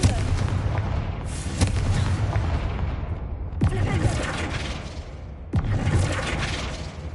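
Confringo spell explosions in the video game Hogwarts Legacy: three heavy booming blasts a couple of seconds apart, each with a sharp attack and a rumbling tail over a dense, continuous battle din.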